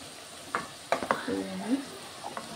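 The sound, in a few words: eggplant frying in pan, soaked soya chunks added and stirred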